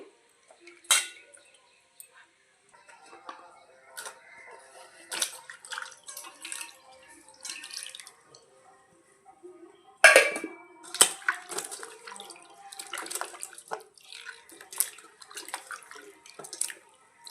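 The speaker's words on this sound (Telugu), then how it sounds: "మంచినీళ్ళతో కడుక్కుందాం మళ్ళీ ఒకసారి" Washing with clean water while making a mango fish curry, with intermittent splashing, clinking dishes and rattling utensils at a sink, quiet between bursts, with a louder clatter midway.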